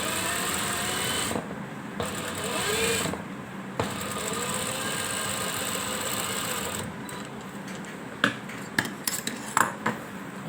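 A sewing machine runs steadily while stitching a second seam around the neckline of a cotton kameez, a continuous mechanical whir with brief pauses and a few sharp clicks and knocks near the end.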